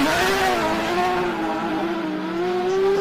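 A Porsche 4-litre rally car engine revs steadily at high pitch, a sustained loud mechanical drone holding near one tone throughout with slight rises and dips, no voices over it.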